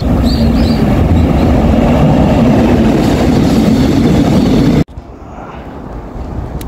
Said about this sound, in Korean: 부산으로 내려오는 기차네요.